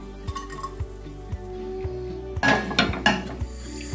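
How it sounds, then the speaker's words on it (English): Browned beef mince scraped from a pan into a YumAsia rice cooker pot, a run of quiet metallic clinks and taps from a utensil, then a brief louder clatter and scrape near the end. "Transfer the browned mince into the YumAsia pot"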